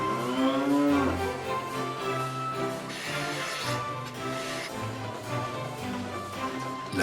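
Dairy cows fed on natural pasture and alfalfa moo loudly and repeatedly, their long, deep calls overlapping close by throughout.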